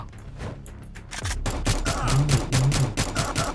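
Gunfire in the Roblox video game Mad Road: rapid bursts of shots, a steady volley that grows denser and louder partway through, continuing to the end.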